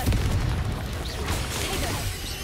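Booming, crashing bursts of the Bombarda explosion spell ring out in Hogwarts Legacy, rumbling and crackling continuously at close range with no talking.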